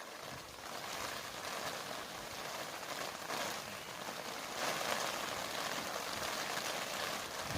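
Steady rain falls on a sheltered spot under a heavy umbrella, a soft continuous patter and hiss heard fairly faint and unbroken, with no voices.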